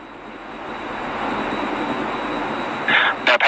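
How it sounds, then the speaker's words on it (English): Atlas V rocket's RD-180 engine roaring at full thrust during boost phase, a steady dense distant rumble sustained throughout without talk. "RD-180 is throttled back up to full thrust."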